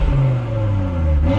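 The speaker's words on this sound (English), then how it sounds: "You can even hear the turbo spool up in it." A 2024 Audi RS3 engine revs in a short, loud, steady burst with a deep rumbling drone and rising whir suggesting turbo spool, heard close and without talk.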